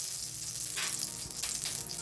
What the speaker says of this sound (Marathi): कढई छान गरम झालेली आहे आपण याच्यात आपला साजूक तूप घालणार आहे